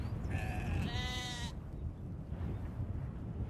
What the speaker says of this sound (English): I came across some sheep with their lambs, just grazing away, minding their own business.